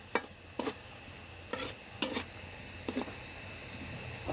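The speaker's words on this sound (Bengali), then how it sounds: "আবারও হলুদ গুঁড়াটা মিশিয়ে নেব" A spoon stirs turmeric powder into chicken gizzards and liver in a pan, giving about six scraping strokes at an uneven pace over a faint sizzle, close and without talking.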